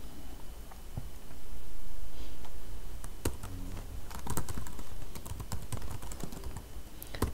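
Fingers tap a computer keyboard while a command is entered in a terminal, a close, clear run of uneven keystroke clicks with a few pauses between bursts and no talking.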